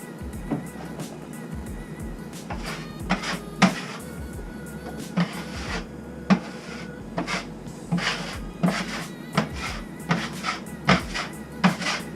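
A drywall broad knife spreads a second, thinner coat of joint compound, giving repeated scraping strokes and soft taps in an irregular rhythm, close and moderately loud, with no talking.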